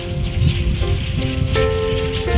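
A large flock of around a thousand blackbirds calling together, a dense continuous chatter of overlapping chirps and tonal whistles, steady and fairly loud with no talk.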